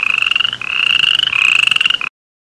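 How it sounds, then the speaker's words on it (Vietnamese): A toad croaks loudly and close by in a rapid, rattling pulse for about two seconds, with short breaks between calls and no other sound. "Con cóc."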